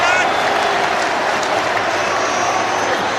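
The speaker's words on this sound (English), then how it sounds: "The cheer goes up from the Welford Road crowd." Rugby crowd at Welford Road, Leicester, at the end of a semi-final, a broad, sustained wash of cheering and applause from a large stadium audience, with a commentator's voice over it.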